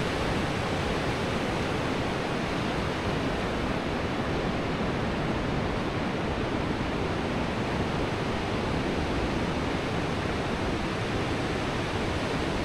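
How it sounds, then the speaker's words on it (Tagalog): Pacific Ocean surf at Guiuan, Eastern Samar rolls in as a continuous broadband wash of waves, steady and even throughout with no voices. "Yan po ang Pacific Ocean."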